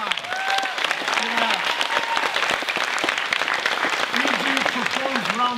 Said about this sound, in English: applause for AJ, the animated illusionist